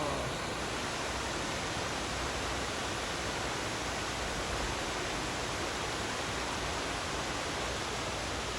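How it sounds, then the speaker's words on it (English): Water rushing in a stream along a mountain walking route between Trabadelo and O Cebreiro, a steady, loud, hissing wash that continues without pause throughout. "Listen to the water now,"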